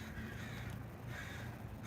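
Crows cawing outside near a car, a continuous harsh chorus over a low rumbling background, moderately distant with no clear breaks and no talking.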